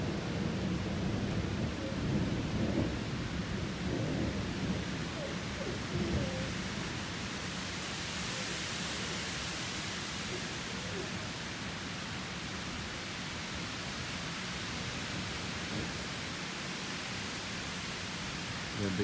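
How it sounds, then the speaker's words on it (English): Steady heavy rain hisses throughout, with deep rumbles of thunder rolling underneath, no voices. "A big thunderstorm rolling in on us."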